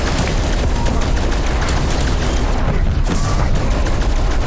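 Dense, continuous gunfire from the Rai K 84 wonder weapon in Call of Duty zombies on the Firebase Z map, a loud rapid fusillade of shots with heavy low booms running throughout.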